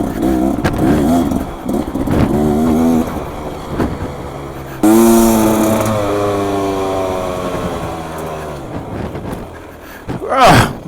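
Beta two-stroke motorcycle engine while riding off-road, a loud rising and falling drone as the throttle opens and closes, with a sharp revving burst near the end.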